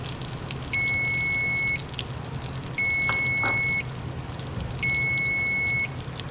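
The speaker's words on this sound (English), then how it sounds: "timer's going off again" Kitchen timer going off while pork schnitzel and balsamic vegetables cook: three long electronic beeps, each about a second, evenly spaced over a steady background of sizzling and kitchen noise, with no talk.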